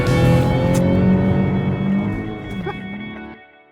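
A Nissan Z Nismo with a manual gearbox spins through donuts, its engine droning loud and steady with tire noise before the revs fade away near the end.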